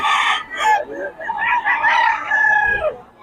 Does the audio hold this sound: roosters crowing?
yes